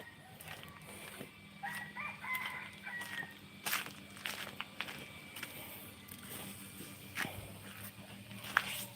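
Chickens cluck and a rooster crows at some distance at early dawn, mixed with scattered scratching and footsteps in a quiet outdoor setting.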